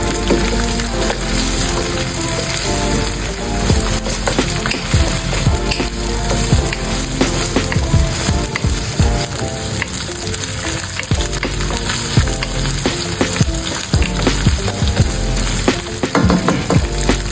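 El Rancho corned beef frying in a pan, a loud dense sizzle and crackle running throughout with busy stirring and scraping, no voices.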